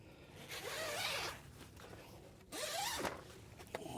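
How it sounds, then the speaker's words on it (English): The triple zipper on a DoD pup-style tent is drawn open in long, close, raspy pulls, with a pause and a brief tug between strokes. "So triple zipper."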